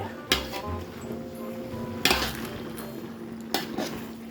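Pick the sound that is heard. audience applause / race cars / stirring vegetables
stirring vegetables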